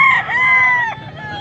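A 14-month bull stag gamecock crows once, loud and close, a single drawn-out call lasting just over a second.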